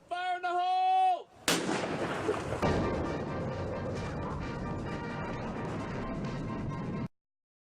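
A loud explosive blast set off underground to kill gophers, a sharp crack followed by several seconds of rumbling debris and echo, preceded by a brief tonal whistle or horn-like sound.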